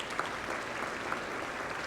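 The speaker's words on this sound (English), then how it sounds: "Let's give them a round of applause." An audience at a business roundtable event claps in a dense, steady round of applause that holds at an even level throughout.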